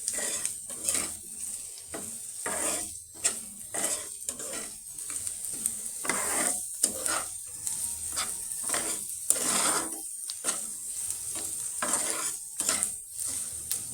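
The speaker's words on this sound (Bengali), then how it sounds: "দেখো আমি পেঁয়াজটা হালকা আঁচে ভাজছি" Salted onion sizzles gently in a pan over low heat while a spatula stirs and scrapes in frequent, uneven strokes close by, the metal clinks rising above the soft frying hiss.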